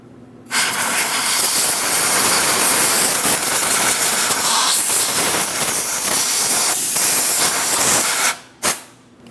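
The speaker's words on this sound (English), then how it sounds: "I'll use some compressed air." Compressed air blowing around the fuel cap of a 2008-2016 Chrysler Town & Country 3.8L V6, a loud sustained hissing blast lasting about eight seconds, then cut off, followed by one short final burst.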